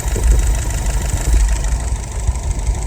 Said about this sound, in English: Currently idling at about 710